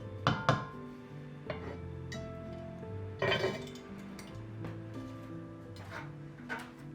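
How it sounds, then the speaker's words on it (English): Spoon stirring cherry filling with sugar, cornstarch and lemon juice in a bowl, giving a few sharp clinks and knocks against the dish over a soft wet mixing sound, close and moderately loud. "Make sure to mix it all together and then plop it on the stove"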